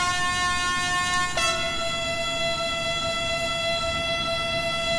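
A TGV high-speed train horn in the Train Sim World 2 video game, on a French LGV line, sounds as a sustained, loud, brassy tone that shifts slightly in pitch partway through and holds steady to the end.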